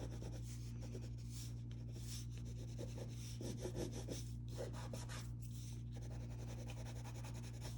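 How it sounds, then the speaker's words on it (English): Fingertips rub colored pencil smooth on paper in a denim drawing, a quiet, continuous soft brushing and rasping over a steady low hum. "And then I'm kind of like smoothing out with my fingers."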